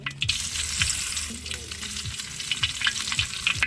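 Whole dry red chillies and bay leaves crackling in hot oil inside a handi, a loud close sizzle with repeated sharp spits and pops and occasional stirring scrapes.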